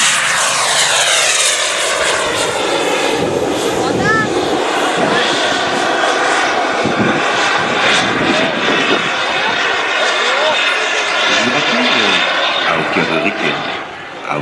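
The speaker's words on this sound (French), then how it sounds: "regardez, attention, alignement et décollage" A turbine-powered RC model jet lines up and takes off at a model airfield, its loud, steady roaring whine sustained throughout, with a commentator talking over it.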